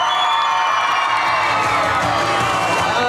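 Loud, continuous shouting and cheering from a cosplay contest audience, voices of many people including children blending into one sustained roar that holds steady throughout.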